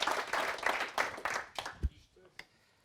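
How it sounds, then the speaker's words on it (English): Audience applause for a speaker at a PHP meetup, a dense burst of clapping that fills the first second and a half, then thins to a few scattered claps and faint murmurs. "warm round of applause for Scoop, Stefan Koopmanschap."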